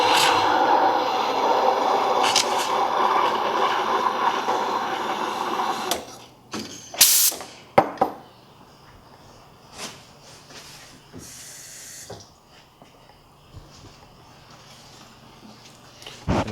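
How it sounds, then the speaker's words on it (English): Espresso machine steam wand steaming milk for a chai latte at a coffee house, a loud steady hiss for about six seconds that cuts off, followed by faint clatter and brief bursts of steam in a quiet room. "Steam it up like you're doing a latte."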